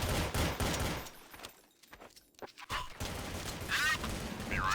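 Rapid bursts of automatic gunfire in Counter Strike Source on the Dust 2 map crackle loudly at the start, drop to scattered shots midway, then swell again, with game radio voices talking over the action.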